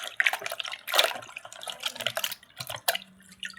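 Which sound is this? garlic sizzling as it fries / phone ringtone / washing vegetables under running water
washing vegetables under running water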